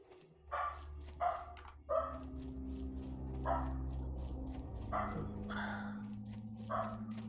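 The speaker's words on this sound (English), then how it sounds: "She barks at everything and nothing because she's a corgi." A corgi barks repeatedly in the background of a room, several sharp yips and barks in an uneven rhythm over a steady low hum, some louder and some more distant.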